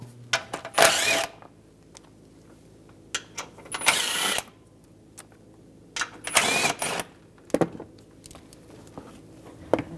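Bolts being removed with a 15mm socket from the lower shield of a 2007-2014 Cadillac Escalade 6.2L V8, heard as several short bursts of ratcheting and metallic clicks separated by quiet pauses.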